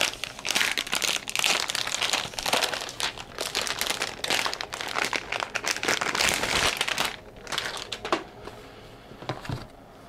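Plastic wrapping crinkles and crackles loudly and close up as a Teotihuacan deluxe board game set is unboxed, in continuous busy bursts that thin out toward the end.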